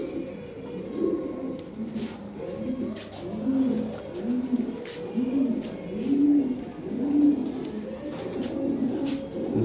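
Lahore siraji pigeons coo close by in a steady, repeating run of soft rolling phrases over low background hum.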